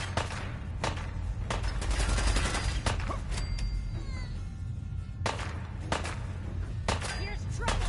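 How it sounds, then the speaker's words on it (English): Rapid bursts of gunfire from the Fallout 4 game, sharp cracks and volleys recurring every second or so across the whole stretch, loud and close, with a voice speaking between the shots. "How are you still shooting, bro?"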